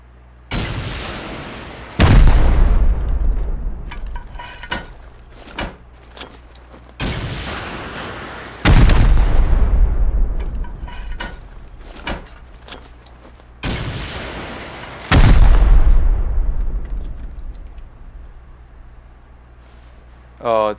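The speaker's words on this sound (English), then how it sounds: "Four more rockets in there." Rocket explosions against an armored base in the survival game Rust, three heavy booming blasts spaced several seconds apart, each rolling off into a long rumbling decay, loud and close with smaller impacts and clatter between them and a voice talking over parts.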